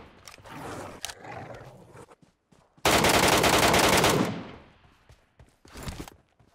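Gunfire in the video game PUBG Metro Royale: scattered shots and bursts, then a long, loud, continuous automatic burst lasting over a second, fading out before a final short burst.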